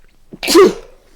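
A single sharp sneeze from a person, loud and close, bursting out abruptly and fading within a second.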